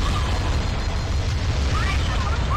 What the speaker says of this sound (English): So I throw a grenade at that.